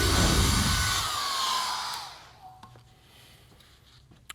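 A hair dryer blows on a watercolor painting coated with masking fluid: a loud, close, rushing whoosh that winds down and stops after about two seconds, leaving faint handling noises.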